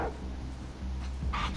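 A dog barks in The Last of Us Part II, a few short close yaps and whines over a low game background rumble.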